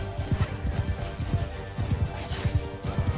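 Horse hooves clip-clopping in Mount and Blade Bannerlord, a steady galloping rhythm of close, fairly loud hoof strikes with a brief whinny in the mix.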